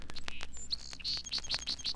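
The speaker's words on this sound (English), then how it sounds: "the modest little song sparrow" A song sparrow sings close and clear, a quick run of bright chirps and trills repeating in a rapid, rhythmic series with no voices over it.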